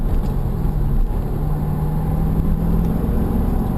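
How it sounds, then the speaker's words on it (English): A steady low engine drone hums continuously, a C7 Corvette's motor idling or running smoothly at an even level with no talking. "And the engine's got a great sound too."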